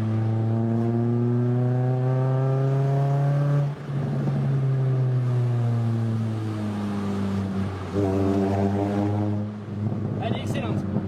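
A Ford Fiesta ST engine revs loudly and close by, its pitch sweeping up and falling back in long pulls with a brief dip between them, while voices talk over it.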